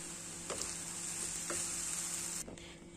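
Vegetables sautéed in a pan sizzle steadily while rice and salt are stirred in for a vegetable soya tawa pulao, with a few soft scraping stir strokes over a continuous frying hiss, close and moderately loud.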